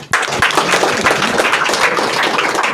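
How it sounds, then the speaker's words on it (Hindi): A group of students at a coaching-centre farewell programme claps loudly and close by, a brief burst of dense, uneven hand claps starting abruptly. "तालियां।"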